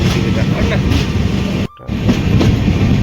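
A loud, continuous rumble and rattle of a moving train, with a sudden short dropout before the roar resumes.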